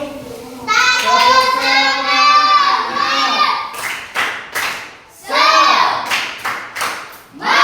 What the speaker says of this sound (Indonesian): Tepuk semangat lagi dulu.